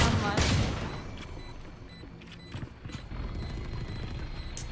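Rapid gunfire in a Valorant ranked match, with quick bursts and single shots cracking over a busy mix of game effects, while a player's voice talks over it.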